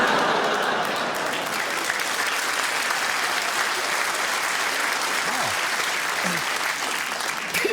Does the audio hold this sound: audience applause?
yes